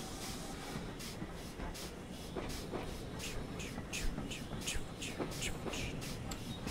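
Steam locomotive in Train Simulator 2019 picking up speed, a steady rail rumble with rhythmic hissing chuffs growing quicker and louder, while someone talks over it throughout.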